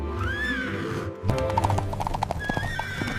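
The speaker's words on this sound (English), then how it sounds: "The mice transformed into 4 magnificent white horses, pawing the ground eagerly." Four white horses whinny in rising calls over a steady clatter of hooves pawing and clip-clopping on the ground, close and lively with no voices.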